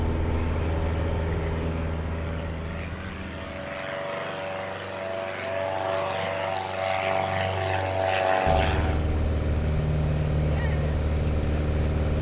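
A light propeller airplane taking off, its engine droning loudly and steadily with a rising pitch sweep partway through, then a sudden change in the engine tone near the end.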